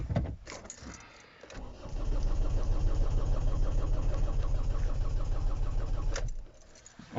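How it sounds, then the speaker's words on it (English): A Ford Focus C-Max 1.6 TDCi diesel with a non-start fault cranks for several seconds on a start attempt, a steady rapid starter churn that stops without catching, with a click and brief rattle before and after. "Let me check if the engine starts"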